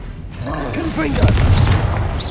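A Confringo blasting spell goes off in Hogwarts Legacy on PS5, a deep, booming explosion that swells and rumbles loudly for a couple of seconds under swirling magical effects.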